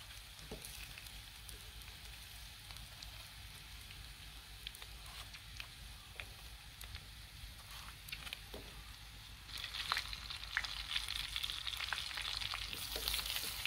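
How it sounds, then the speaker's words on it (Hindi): Tomatoes and potatoes fry together in a karahi with ginger-garlic paste and oil, giving a steady close sizzle throughout that grows louder and brighter near the end, with occasional scraping stirs. "टमाटर डालने के बाद अभी टमाटर को भी नरम होने तक आलू के साथ फ्राई कर लेंगे"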